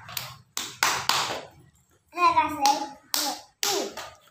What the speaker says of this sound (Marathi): परत वाजव, तीन टाळ्या वाजव.